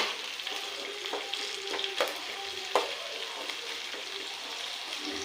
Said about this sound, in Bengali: তো পেঁয়াজটাকে আমি লাল লাল করে ভেজে নেব